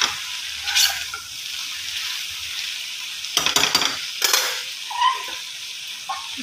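Taro shoot curry sizzles in a pan after water is added, village-style, with a steady soft fry and several sharp scraping stirs of a spoon against the pan.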